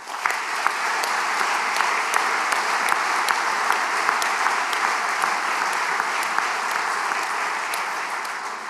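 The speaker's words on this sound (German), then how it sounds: "Ich bitte um entsprechenden Applaus." Sustained applause from a sizable crowd at a shareholders' general meeting, dense steady clapping with no pauses, fairly loud throughout.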